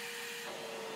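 Milwaukee Packout vacuum running with an Air-Tip dust collector attached, a steady close-up whine with a high tonal hum and airy suction hiss that shifts in pitch partway through, no talking.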